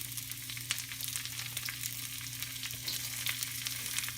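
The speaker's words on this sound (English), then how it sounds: "we're going to add the carrots and the pea pods to our piping hot pan" Carrots and pea pods sizzle in a very hot wok for a stir fry, a steady bright frying hiss with crackling spits throughout, close and fairly loud, with no talking.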